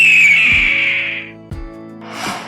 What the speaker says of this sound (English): H-A-W-K, hawk